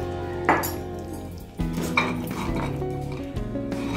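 Jonna rava payasam stirred in a metal pot, a spoon scraping and clanking against the sides in a few distinct knocks and rattles, close and fairly loud, without speech.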